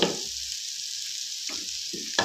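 A paratha fries in a pan over a low flame with a steady, soft sizzle, broken by a few brief clatters of the pan or spatula.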